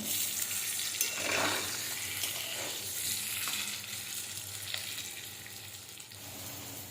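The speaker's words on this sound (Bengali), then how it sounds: "এবার এই আলুগুলো ভালো করে ভেজে নেব" Potato pieces seasoned with a little salt and turmeric fry in hot oil, giving a steady close sizzle and crackle with brief louder spurts as they are turned.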